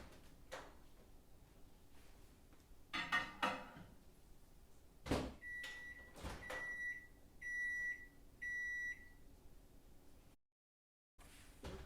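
A microwave set to power level 7 melts chocolate: quiet clunks of a door opening and closing, then a run of clear, evenly spaced electronic beeps, all faint and close in a quiet kitchen.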